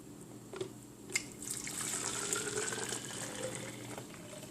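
Liquid pours steadily through a strainer into a container, a soft continuous trickle and splash after a couple of small clinks.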